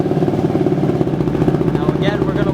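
A motorcycle engine, just reassembled with its radiator cap refitted, runs at a steady idle with a continuous low pulsing throb, close and fairly loud, with no one speaking.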